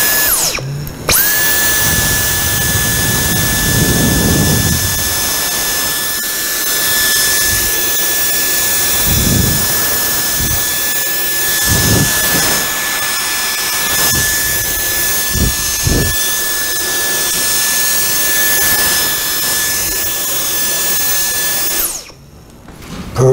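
A Dyson V10 cordless vacuum cleaner runs steadily with a loud, high-pitched motor whine, close and continuous, with faint handling knocks, before cutting off near the end.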